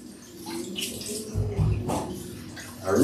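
Potatoes scrubbed under a running tap in a kitchen sink, with steady water flow, intermittent splashing and rubbing, and a louder gush near the end.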